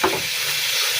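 Pond-caught fish frying in a pan, giving a steady, close sizzling hiss that runs throughout with no talking over it.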